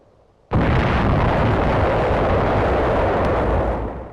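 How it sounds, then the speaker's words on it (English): Wartime combat blasts from hand grenades and bombs hitting pillboxes and hillside caves: a sudden loud roaring burst that holds as a sustained rumbling, crackling wall of noise for over three seconds before tapering off, with no voices. "Pillboxes and hillside caves are reduced with hand grenades and bombs."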